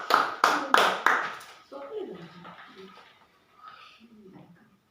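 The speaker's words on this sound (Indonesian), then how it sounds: "Tepuk tangan ya." A group at a training session claps in a few loud, short bursts of applause, followed by a voice speaking.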